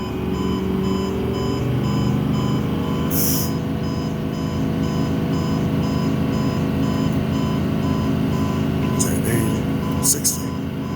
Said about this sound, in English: Put your foot on the accelerator, rev it up to 120. You're gonna hear a sound when it get up to 120.